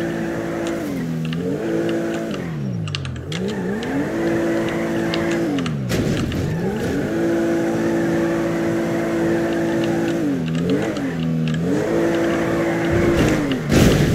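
A car engine in the video game GTA 5, revving up and down loudly and continuously as it drives, with pitch climbing and dropping through several gear changes.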